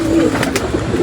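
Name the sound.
pet pigeons cooing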